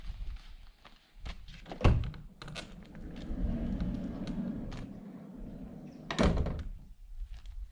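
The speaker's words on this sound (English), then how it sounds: "Main door with an electric" A motorhome's main door, fitted with an electric step, closes with a couple of solid thunks and a final latch, heard close against a low steady background hum with no talk.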